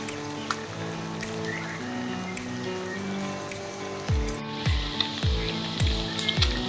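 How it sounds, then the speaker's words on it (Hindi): Chicken pieces fry golden in oil with a continuous crackling sizzle, partly masked by tonal music and some low thumps toward the end. "हमारा चिकन जो है बहुत ही अच्छी तरीके से गोल्डन फ्राई होना शुरू हो गया है"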